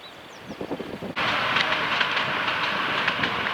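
A narrow gauge train rumbles past close by, a steady loud roar of wheels on track with faint rhythmic clacking, following a quieter moment of light background noise.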